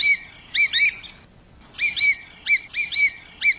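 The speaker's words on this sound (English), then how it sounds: "the English term godwit is believed to be an imitation of the bird's call" A Hudsonian godwit calls in loud, clear, repeated two-note phrases, about seven quick calls with a brief pause in the middle, alone against quiet background noise.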